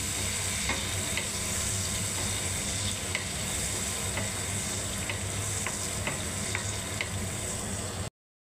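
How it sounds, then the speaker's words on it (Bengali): Onions fry in a pan for a fish curry, a soft steady sizzle with faint periodic ticks of stirring, fairly quiet and uniform before stopping suddenly. "দেখুন এই পেঁয়াজটা ভালোভাবে নাড়বো এখন আমি"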